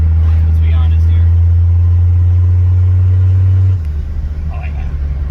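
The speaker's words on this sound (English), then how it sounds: "I'm running this with an open downpipe right now. No exhaust at all in this car." A Mercedes W123 coupe with a turbo engine runs on an open downpipe and no exhaust, giving a loud, steady, low drone that drops in pitch near the end, with a voice talking over it.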